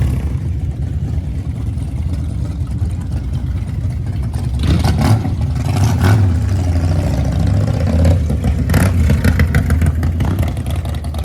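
Motorcycles, including a 1200 cc BMW, rev and ride past on a road on Prince Edward Island, Canada, making a loud, steady engine drone that swells louder midway, close by with no voices.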